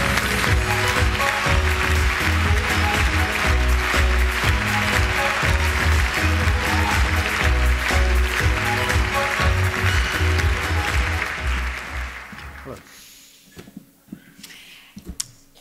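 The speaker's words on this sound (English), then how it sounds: "please shake, rattle, roll, and applaud wildly for Gugu Mbatha-Raw" Audience at the BAFTA film awards ceremony applauding loudly and steadily in a large hall, the clapping fading away toward the end.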